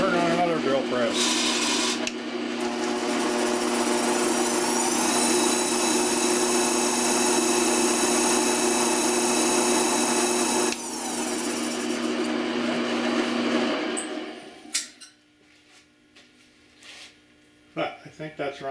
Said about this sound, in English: Turn on another drill press.